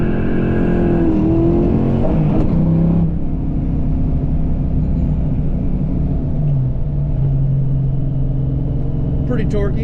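Inside a 1988 LX with a 331 stroker V8, the engine rumbles loudly while accelerating in first gear, its deep, close drone rising and then settling into a steady roar with a brief pitch shift.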